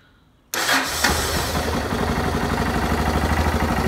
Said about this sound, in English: test and check the engine.